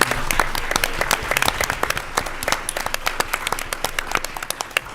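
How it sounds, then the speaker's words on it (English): Applause at a school board meeting, with sharp individual claps standing out from a lively room-filling round that stays loud throughout, with no talking. "One more time, can we please give a round of applause for Dr."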